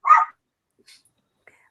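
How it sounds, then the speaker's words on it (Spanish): A dog barks in two short bursts, one at the start and one at the end, with a faint yelp in between, fairly close and clear against an otherwise silent background. "Esto de los perros."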